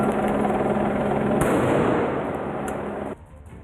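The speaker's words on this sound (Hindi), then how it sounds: "उल्टे उन्होंने पुलिस पर पटाखों से हमला करना शुरू कर दिया।" Firecrackers explode during a violent street protest, a dense continuous crackling and popping with a sharper burst partway through, loud and sustained before dropping off suddenly near the end.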